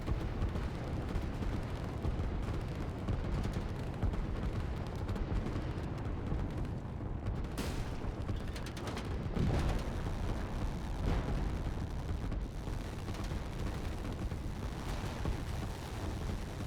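Buildings blow up in the strategy video game Line War, heard as a continuous dense rumble of explosions and booming blasts with sharper bursts near the middle, loud and sustained with no talking.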